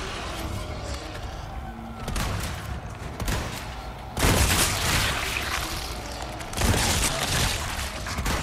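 Gunfire in the Resident Evil 4 Remake game, loud blasts erupting amid a noisy, washing background, with heavy bursts around the middle and near the end against a continuous rumble.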